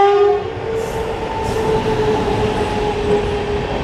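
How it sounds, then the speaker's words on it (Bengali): A train departs Gurpa station, its horn sounding briefly at the start before a steady rumble and rolling wheel noise carry on close by. "ট্রেন ছেড়ে বেরিয়ে গেল।"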